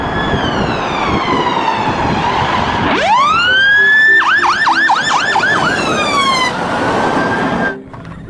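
A toy fire engine's siren sounds loudly on its own, starting with a falling wail, then a sharp rising sweep into a rapid warbling yelp that cuts off near the end.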